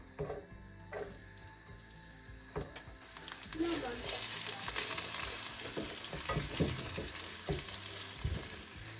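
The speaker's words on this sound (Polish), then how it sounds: "Na gorący olej wrzucamy cebulę" Chopped onion sizzles and crackles in hot oil in a frying pan over medium heat, a steady close frying hiss that swells louder partway through, with occasional clinks and scraping of stirring.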